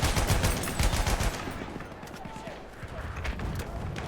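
Battlefield 1 gunfire on the Brusilov Keep map, loud rapid bursts dominating the first second and a half, then scattered sharper shots at lower level through the rest, with players talking over the game.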